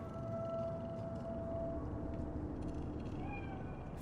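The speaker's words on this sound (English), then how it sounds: "Fine-looking feline. Thought they'd all disappeared from the city." A cat meows once or twice in the video game Cyberpunk 2077, set in Night City, with a drawn-out plaintive call over a constant low background hum.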